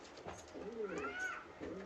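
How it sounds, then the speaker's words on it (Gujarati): Pigeons offered for sale coo softly, with a low rolling call rising and falling once over a quiet background. "હવે સસ્તા અને સારા કબૂતર"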